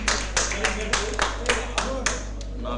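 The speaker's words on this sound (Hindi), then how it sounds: "ग्रुप 5 को जोर से तालियां बजा दीजिए।" An audience at a conference claps for a group, a loud run of sharp, fairly evenly spaced claps over a steady background hum.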